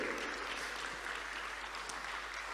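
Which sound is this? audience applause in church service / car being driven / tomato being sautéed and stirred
audience applause in church service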